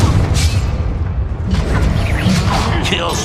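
A fiery Confringo spell blast booms out during combat in the Hogwarts Legacy video game, a loud burst over dense rumbling game noise and effects.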